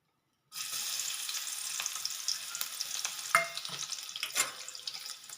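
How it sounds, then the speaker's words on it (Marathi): Crushed garlic dropped into hot oil sets off a sudden, bright sizzle that holds steady, broken by a couple of sharp stirring clicks. It is close by, with no talk. "तेल तापलं आहे आपलं आता आपण घालणार आहोत त्याच्यामध्ये ठेचलेला लसूण"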